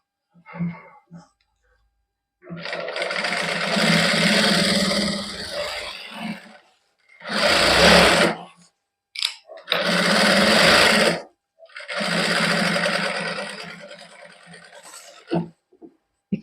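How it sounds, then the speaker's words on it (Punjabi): A sewing machine stitches golden lace onto a salwar cuff in several loud, close bursts of whirring separated by pauses, with brief handling sounds between runs. "ਹੁਣ ਆਪਾਂ ਇੱਕ ਸਲਾਈ ਇੱਧਰ ਲਾ ਦਿੰਨੇ"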